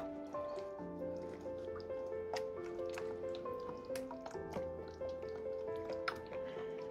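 Ingredients for a dump cake are stirred and mixed in a bowl and an egg yolk is broken up, giving soft wet squishing and dripping sounds at a quiet level, without talk.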